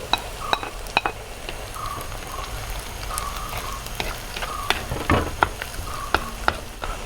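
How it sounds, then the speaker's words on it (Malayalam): Chopped garlic and ginger sizzle in hot oil in a pan for a young-fish curry, a steady close frying hiss broken by sharp clicks and scrapes of a spoon stirring against the pan. "ഇനി നമ്മൾ അരിഞ്ഞ് വെച്ച വെളുത്തുള്ളിയും ഇഞ്ചിയും കൂടി ചേർത്ത് കൊടുക്കാം."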